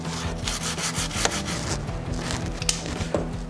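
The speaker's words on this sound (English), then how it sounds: "Take my grunge brush and make sure I get it clean on all sides" Steady scratchy scrubbing of a stiff grunge brush rubbing back and forth over the chain of a 2019 Kawasaki Ninja ZX-6R motorcycle, close up and continuous, with a low mechanical hum underneath.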